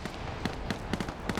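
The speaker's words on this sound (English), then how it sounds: "Grenades are blowing people away, though." Grenades exploding in an Arma military game operation, several sharp blasts going off one after another in quick succession at moderate volume over a busy background.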